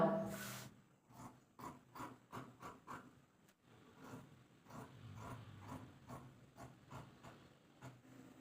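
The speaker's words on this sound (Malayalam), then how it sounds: "ഇനി നമുക്ക് ഈ ഒരു ഫ്രണ്ട് നെക്ക് അങ്ങ് കട്ട് ചെയ്തെടുക്കാം കേട്ടോ" Scissors snip through folded kurti fabric to cut a half-collar front neckline, a run of short crisp cuts in a steady rhythm, close and clear with no talk.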